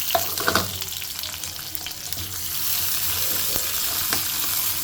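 Chopped onion and green chillies sizzle in a hot pan for egg poha, a close, steady frying hiss with occasional stirring scrapes, no voices.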